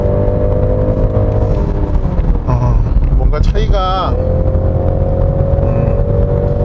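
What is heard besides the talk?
car engine accelerating with extra boost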